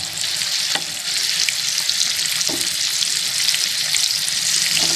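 Espada fish fries in hot oil in a pan, a dense, loud, unbroken sizzle with a couple of sharp spatters, close up and without voices.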